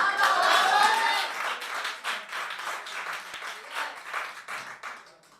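An audience breaks into applause, a loud burst of dense clapping that thins into uneven, pulsing claps and gradually tapers off over a few seconds.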